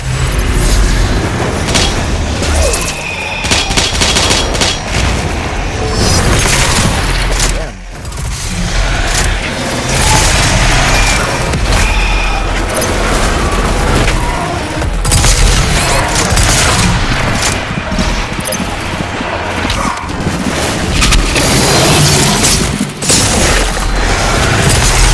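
Rocket explosions in a video game, a dense barrage of loud booms and blasts that rarely let up, nearly continuous with brief dips between bursts and only faint voice beneath.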